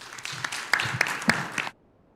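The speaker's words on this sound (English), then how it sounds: "So give our panelists a good round of applause." Brief applause from a conference audience for a panel of speakers, a short patter of claps with a few sharp hits, ending abruptly after under two seconds.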